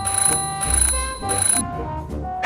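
An alarm clock rings in repeated short bursts of bright electronic beeping, loud and close, with brief gaps between each burst.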